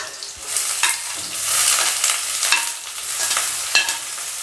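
Sliced onions fry in hot oil in a pan and are stirred, a loud close sizzle broken by repeated scraping strokes of the spatula, with no voices.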